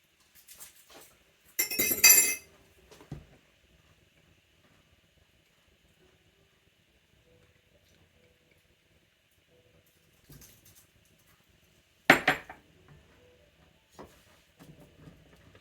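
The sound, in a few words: mixing ingredients together in a bowl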